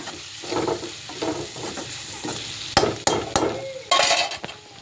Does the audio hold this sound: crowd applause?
no